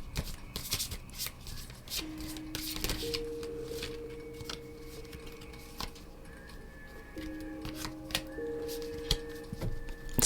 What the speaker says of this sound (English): I should probably be a better shuffler